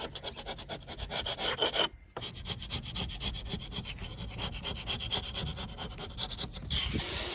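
A scraper strips paint softened with PeelTec stripper down to bare wood, making close, repeated rasping strokes in a steady rhythm with a brief pause partway through.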